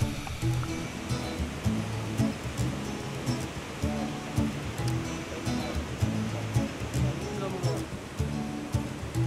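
A waterfall in Cateel, Davao Oriental pours continuously, a broad steady roar with splashing, while voices murmur faintly in the background.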